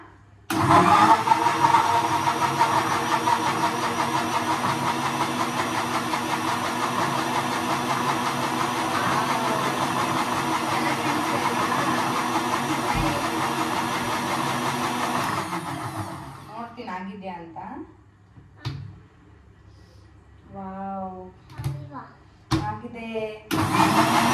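An electric juicer starts up and runs with a steady, loud motor whir, then cuts out, leaving a few scattered clicks and knocks.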